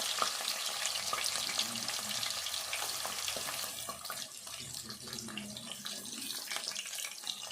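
Washed onions sizzling in a pan for a raw fish curry, a continuous dense crackle with occasional stirring clatter, close and steady throughout.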